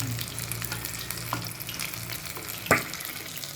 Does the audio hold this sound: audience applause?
no